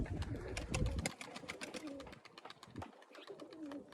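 Tufted female pigeon cooing close by in soft, repeated low coos among rustling and wing flutters, with a louder stretch early on and quieter calls after.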